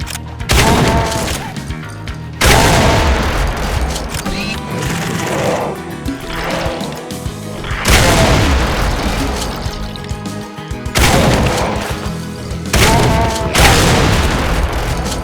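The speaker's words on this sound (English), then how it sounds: "you get a rotary shotgun" A rotary shotgun fires in the GZDoom-based game Supplice: a handful of loud, booming blasts come in bursts with short gaps between volleys, over a dense game soundscape.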